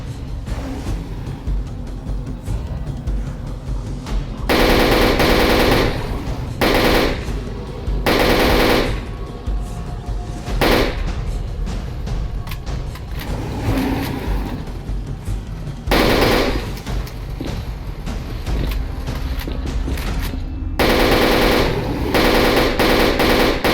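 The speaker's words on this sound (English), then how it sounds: "Here I could funnel them and gun them down nice and easy." Automatic gunfire in the S.T.A.L.K.E.R. video game, loud repeated bursts of rapid shots with short pauses between them over a low background rumble, without talk.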